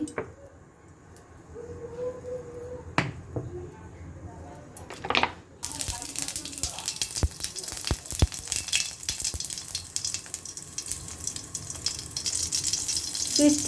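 Egg curry cooking in oil in a wok (kadai) in a village kitchen: a steady broadband sizzle of frying fills the second half after a sharp rise, with running water and clatter beforehand, at moderate loudness with no speech.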